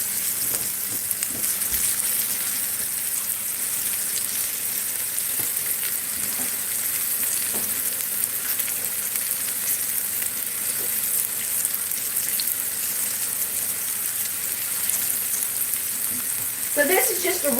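Okra, green tomatoes, Vidalia onions and pepper fry in a pan over medium heat with a loud, steady, crackling sizzle, close up and unbroken throughout, with a faint knock near the end and no talking.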